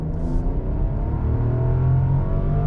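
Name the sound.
luxury car engine accelerating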